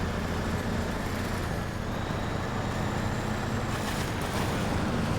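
A Kenworth C500 truck drives in the SnowRunner video game, a continuous low engine rumble and road noise held at a steady, moderate level with no speech.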